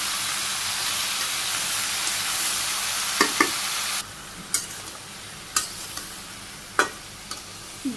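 Vegetables are stirred and sautéed in a pan in a Bangladeshi home kitchen: a steady close sizzle and steamy hiss runs throughout, punctuated by intermittent sharp clacks of a spatula against the pan, with no talking.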